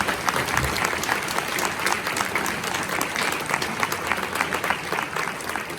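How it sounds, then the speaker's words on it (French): Dense, steady applause from a conference audience at a mediumship congress in Toulouse, many hands clapping continuously at a fairly loud level with no one speaking over it. "on peut applaudir les médias"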